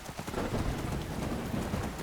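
Rain pours in the video game Skyrim, a dense, even wash of drops with faint low rumbling and what may be soft hoofbeats mixed in, filling the short stretch without pause.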